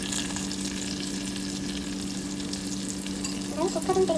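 Masala onion frying in a pan, a steady soft sizzle under a constant low hum, with a few scraping stirs near the end.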